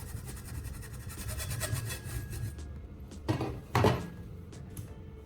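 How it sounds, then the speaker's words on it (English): Hand saw cutting through a round wooden dowel, quick rhythmic rasping strokes for about two and a half seconds, then a couple of short scraping bursts, close and quiet. "Using a saw, I cut off a short section about the length of a marker"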